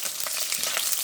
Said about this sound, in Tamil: இப்போ பொரியுது.